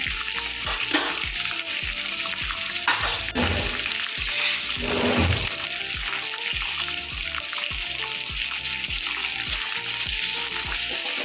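Ivy gourd pieces frying in an oiled pan for chutney: a steady, close, bright sizzle runs throughout, broken by a few soft stirring scrapes, with no talking.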